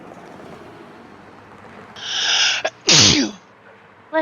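A single loud close sneeze with a sharp inhale buildup and explosive burst, followed by a brief trailing breath, against quiet background.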